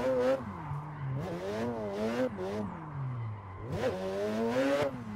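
A Mazda RX-7 FD rotary drift car screams through a slide, its engine note rising and falling with repeated revs, tire squeal mixed in, close and loud throughout.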